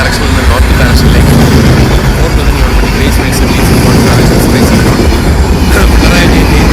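A train passes nearby heading from south to north in the Trivandrum South area, a loud continuous rumble and roar with rattling clatter filling the whole stretch.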